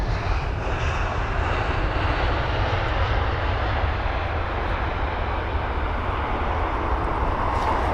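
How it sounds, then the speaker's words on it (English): British Airways Airbus A320-200 jet engines at London Heathrow, a loud sustained roar with a broad rumbling low end and a gently shifting hiss, steady throughout and without talk. "the flight from Milan, the British Airways A320-200 with the reg Golf Echo Uniform Yankee Sierra"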